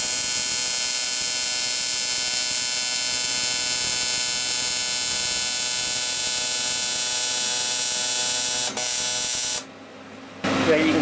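AC TIG welding on an inside corner joint with an R-Tech Power TIG 260 produces a steady, loud electrical buzz with a hum beneath it, cutting off abruptly near the end.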